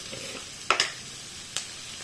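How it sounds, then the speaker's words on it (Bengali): Vegetables for hakka noodles fry in a pan under a low, steady sizzle, broken by two brief clatters of a spoon stirring, close and fairly quiet. "তো এগুলোকে এবার আমি একটু ভেজে নেব, এই 10 মিনিট মতন সব ভেজিস গুলোকে ভেজে নেব"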